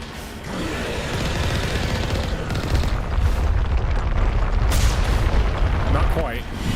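Deep booming blasts and rumbling fire from a Mass Effect 1 space battle roll on loudly throughout, with overlapping low impacts swelling and fading.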